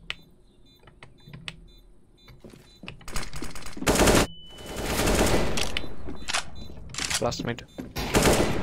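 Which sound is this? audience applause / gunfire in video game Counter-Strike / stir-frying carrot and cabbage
gunfire in video game Counter-Strike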